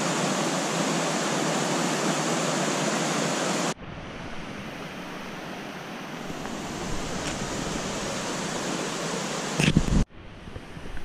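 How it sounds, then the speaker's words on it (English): Small creek along a hiking trail near Mingo Falls in the Smoky Mountains, a steady broadband rush of flowing water, loud and close, changing abruptly in level as the recording shifts, with no talking. "Nice little creek."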